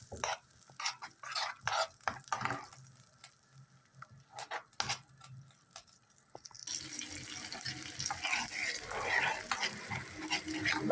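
Minced garlic frying and sizzling in Egyptian ghee with melted butter, with stirring scrapes in the pan at first, then a steady, louder frying hiss.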